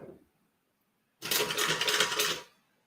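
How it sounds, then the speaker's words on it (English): Sewing machine running a stitch line between rows of topstitching, a single burst of rapid mechanical whirring lasting just over a second, close and clear after a brief quiet pause. "Now when I stitch this, I'm going to stitch just in between my top stitch lines."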